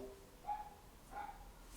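A small dog gives two short yips or barks about a second apart, fairly faint and distant over a quiet background.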